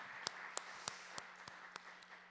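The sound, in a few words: congregation applause in church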